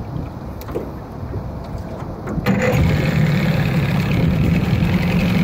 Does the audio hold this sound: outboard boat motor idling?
yes